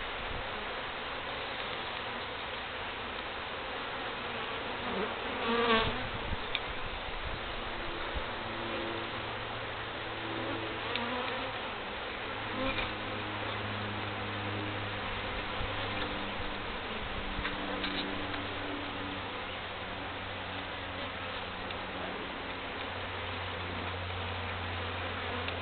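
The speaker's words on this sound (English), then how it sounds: "All these bees jammed in here." Honey bees swarm with a dense, steady buzzing drone while a feral hive is cut out, the hum continuous and close with faint clicks and handling noises, no talking.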